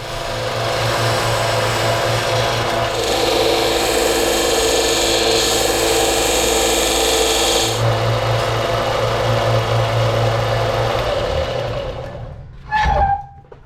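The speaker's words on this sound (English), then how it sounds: "let's throw on the old sander" A power sander shapes a Micarta scale for a Victorinox Compact pocket tool, its loud steady whine running continuously for about twelve seconds with a pitch shift partway through, then cutting off abruptly before a brief clatter at the end.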